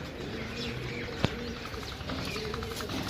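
Low pigeon coos repeat close by over a busy background, with a single sharp click partway through.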